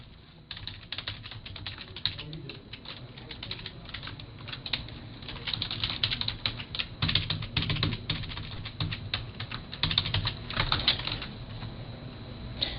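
Someone types a username on a computer keyboard while signing up a customer service agent: rapid, close key clicks in uneven bursts, continuing steadily for several seconds.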